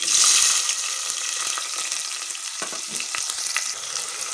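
Onions frying in oil with mustard seeds, cumin and chana dal in a pressure cooker give off a loud, steady sizzle with crackling pops throughout, close and with no talk.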